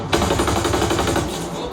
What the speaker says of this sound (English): Sniper's about to fire on us.